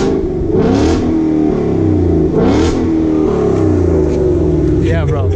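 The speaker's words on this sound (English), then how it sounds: "That is a very, very loud exhaust." A 2018 Ford Mustang GT exhaust revs hard several times in loud bursts, each rising and falling, with a deep rumble between revs.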